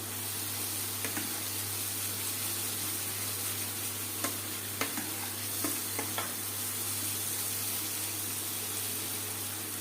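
Spiced masala for a dhaba style bhindi (okra) dish being stirred and roasted in a pan, giving a continuous soft sizzle with occasional light scrapes of the spoon against the pan.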